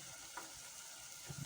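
Minced keema frying in a pan crackles and sizzles steadily after water is added, a close, soft hiss with small stirring sounds.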